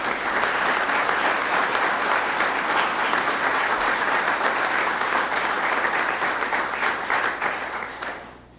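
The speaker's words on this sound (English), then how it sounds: "Oh, I hear Charlotte giving me some applause back there." Sustained applause from an audience at a governor's public announcement, steady and full throughout before fading out at the very end, with no talk over it.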